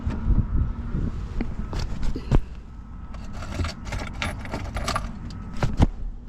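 A bunch of keys jangles and clinks close to the microphone in uneven bursts and rattles, with brief sharp metallic hits and some handling noise throughout.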